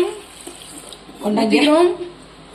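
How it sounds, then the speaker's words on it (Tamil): Milk poured into a blender jar while making a milkshake, a short liquid splashing and trickling burst close by, lasting about a second, with faint household background before it. "பால் கொஞ்சம் பால் ஊத்துறோம்"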